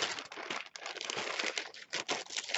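A plastic Ziploc bag crinkles and rustles close up in quick irregular bursts of crackling, loud and dry, with no voices.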